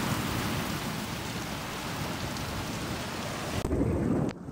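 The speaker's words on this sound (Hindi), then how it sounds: "देखिए बारिश कितनी बारिश हो रही है फुल हवा के साथ" Heavy rain pours steadily in Madinah in a dense, hissing roar, with strong wind gusts adding to the wash of sound before it briefly shifts near the end.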